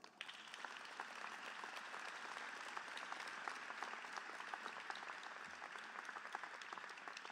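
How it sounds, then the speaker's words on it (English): Graduates and guests at a Roxbury Community College commencement ceremony applaud the faculty, a sustained, even roar of many hands clapping from start to finish, heard at some distance. "please extend your appreciation to your faculty for their scholarship, teaching, and commitment with a warm round of applause"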